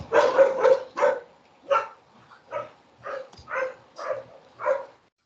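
A dog barks about ten times in an uneven series, loud and close at first, then in evenly spaced single barks that trail off, with no one talking.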